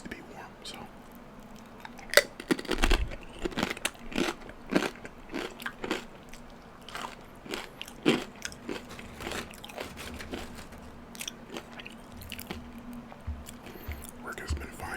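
Tortilla chips with warm nacho cheese being eaten close to the mic, with irregular sharp crunchy bites and chewing spread throughout, over a faint steady hum, with quiet talk in between.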